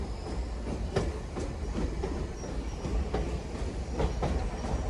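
Nickel Plate Road 765 steam locomotive idling in a rail yard among grain wagons, a steady low rumbling hiss with faint rhythmic pulses and clanks, moderately distant and continuous.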